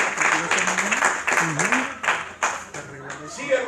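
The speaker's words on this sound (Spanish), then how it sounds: "¿O cuando dan ese aplauso?" Church congregation applauding during a Spanish-language sermon, a dense wash of clapping running throughout, with the preacher's voice talking loudly over it.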